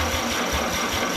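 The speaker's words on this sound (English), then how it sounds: "Starts to fire." A 261 straight-six engine firing on its first crank, giving a brief rough, pulsing low rumble that runs steadily through the short moment.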